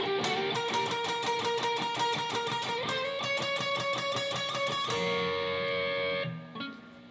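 Electric guitar runs parts 1 and 2 of the solo back to back, fast repeated picked licks, then held notes ringing out and fading, solo and close.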